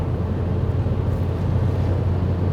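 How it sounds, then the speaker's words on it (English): Volkswagen up! 2016 city car accelerating at full throttle in fifth gear around 120 km/h, a steady low engine drone mixed with broadband road and wind roar from inside the cabin, continuous and fairly loud. "Going 120 now, 5th gear, full throttle."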